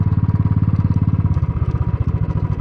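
A motorcycle engine thuds loud and close with a fast, even pulsing beat as it rides toward a hillside fair in Ilam, Nepal, and the rhythm eases slightly partway through.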